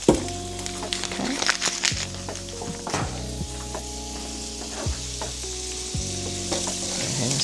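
Chicken pieces stirred in melted butter in a frying pan, with a steady, close sizzle and occasional scrapes and clinks from the utensil throughout.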